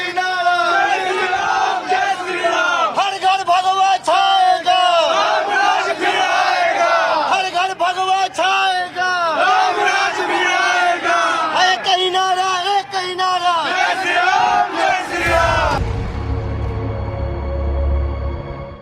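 Thousands of devotees gather outside Hotel Palash, a large crowd chanting and cheering loudly in rhythmic unison. The roar holds steady for a long stretch, then cuts off abruptly to a low rumble near the end.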